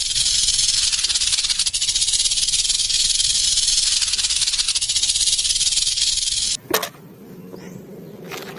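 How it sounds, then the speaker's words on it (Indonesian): A snake hisses in a loud, steady, unbroken rush for about six and a half seconds, then cuts off abruptly into near silence. "Seekor ular."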